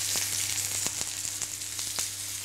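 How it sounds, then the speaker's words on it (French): Cod fillets fry skin-side down in a very hot pan of olive oil, giving a dense, steady sizzle with small crackling pops scattered throughout, close and loud. "Puis disposez les 2 pavés de cabillaud dans une poêle bien chaude côté peau."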